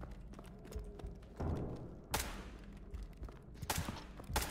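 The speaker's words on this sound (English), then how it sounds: "They're shooting at us." Gunfire in the video game SCP 5K: several sharp shots and short bursts ring out at moderate loudness over a low background rumble, with a couple of distinct loud cracks spaced a second or two apart.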